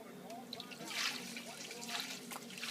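Homebrewed beer poured through a funnel, a soft, continuous trickling and gurgling of liquid heard up close while people talk quietly over it.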